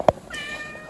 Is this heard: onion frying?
no